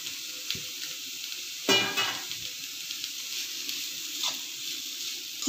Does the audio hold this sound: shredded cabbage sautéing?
yes